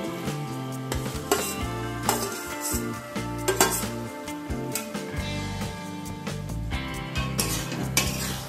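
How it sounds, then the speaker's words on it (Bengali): Fried prawns are stirred into a banana stem mixture in a pan, with a metal utensil clinking and scraping against the pan in a steady rhythm under continuous background music. "এর মধ্যে আমি ভেজে রাখা চিংড়িগুলোকে অ্যাড করে দেব"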